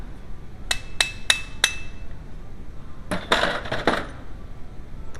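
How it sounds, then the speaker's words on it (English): Sharp metallic hammer blows on the shaft of a VW A2 1.8L distributor to knock off the drive gear: four evenly spaced ringing taps, then a denser cluster of strikes, close and fairly loud in a quiet workshop. "If the drive gear won't come off, do the same thing, just hit the shaft."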